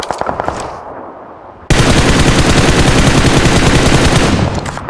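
Gunfire in the mobile battle royale game PUBG Mobile: a few scattered shots, then a sudden, sustained, loud burst of rapid automatic fire that runs without pause for several seconds, close and dominant.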